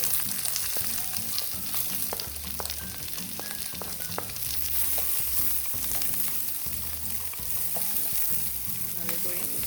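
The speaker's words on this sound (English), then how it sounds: "Let it saute for a little bit, cook down those onions and the garlic a little bit." Peppers, onions and garlic sauté in olive oil with a dense, steady sizzle and occasional stirring clicks and scrapes, close and continuous without talk.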